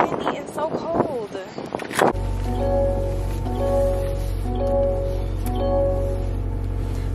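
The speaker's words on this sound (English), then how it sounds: "It's so windy and so cold." Gusty wind buffets the microphone with a deep steady rumble, preceded by a brief burst of talking at the start.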